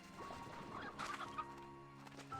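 Chickens clucking in the farming video game Slime Rancher 2, a few soft, close clucks and short calls over a quiet humming game background.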